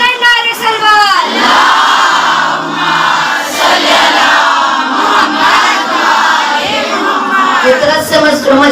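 A crowd at a majlis gathering chants salawat loudly and together. After a brief lead voice, the massed voices roar close and sustained, surging in waves without a break.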